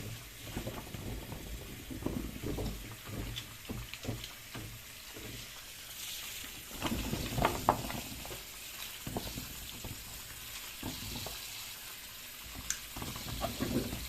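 Walnuts washed in water, with continuous sloshing, splashing and rattling as the nuts are stirred and swirled by hand, close and moderately loud throughout.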